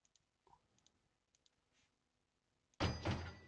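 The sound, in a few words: door placed in Software Inc video game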